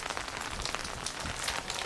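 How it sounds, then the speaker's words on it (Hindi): Rain falls in the mountains, a soft continuous patter of drops on surfaces, faint and steady with no voices. "यहीं से हमें तो पता चल जाता है बारिश तेज है कि आस्ता है।"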